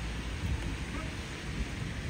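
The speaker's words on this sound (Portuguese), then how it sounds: "Eu ia dizer agora o barulho de chuva." Steady rain falls in Balneário Camboriú, Brazil, a faint, even hiss with low rumbling that fits distant thunder, continuous for the whole short stretch.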